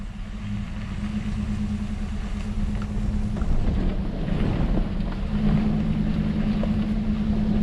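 A vehicle driving along a rough, dry dirt road toward a lake, its engine droning steadily with rumbling, bumpy road noise and wind across the cab, with no talking.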